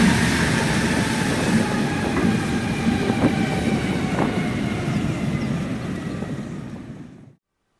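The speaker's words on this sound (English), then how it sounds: "DSA 551 trundling along the Goldfields Railway with the 9:45 Waihi to Waikino service" DSA 551 diesel locomotive trundles along the Goldfields Railway on the Waihi to Waikino service, a steady rumble with rhythmic wheel clatter and faint squeals, fading and cutting off at the end.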